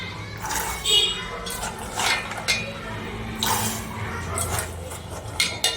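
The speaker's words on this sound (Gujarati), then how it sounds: "તો આપણે આમાં ચણા નાખીશું." Soaked chickpeas tumble into a pot of water heating on the stove, with splashes and clinks of a utensil against the pot, sounding in short bursts while a voice talks over them.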